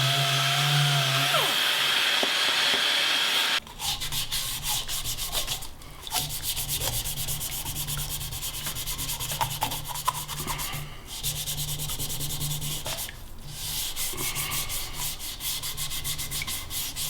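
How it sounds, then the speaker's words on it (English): A wooden lidded box spinning on a woodturning lathe is sanded through progressively finer grits, giving a continuous loud rubbing hiss over the motor's hum after a brief quieter start, with no talk. "work my way through all the grits up to, I don't know, probably 240 or so"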